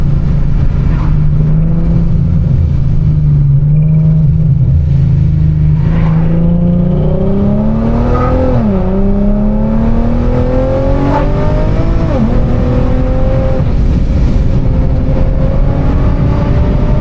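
A 700HP Infiniti G37 accelerating at half throttle, its engine note climbing steadily through the gears with a brief dip at a shift, loud and close, with a deep exhaust rumble and no talking.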